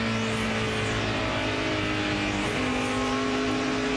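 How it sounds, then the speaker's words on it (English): A NASCAR stock car engine at Pocono Raceway during the 2009 Pennsylvania 500, a loud sustained drone whose pitch shifts slightly as cars pass, with no speech. "you can see the car just not picking up any RPM"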